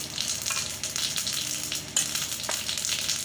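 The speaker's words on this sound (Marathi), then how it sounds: "मोहरी तडतडीचे जिरे घालायचे" Mustard seeds and cumin crackling in hot oil for a tempering, a dense bright sizzle with sharp pops close by, no talking.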